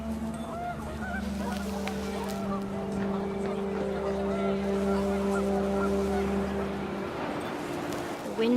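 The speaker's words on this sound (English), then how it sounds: "The wind picked up, and panicked geese appeared and quickly went." Panicked geese honking in the video game What Remains of Edith Finch, a dense, steady chorus of honks with a low sustained drone and wind, while a voice speaks over it.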